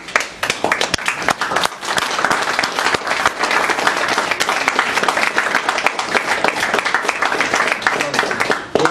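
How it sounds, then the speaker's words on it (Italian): An audience applauds at a tribute event with dense, steady clapping that fills the whole stretch, loud and sustained with no pause. "Il vostro applauso mi sta assordando."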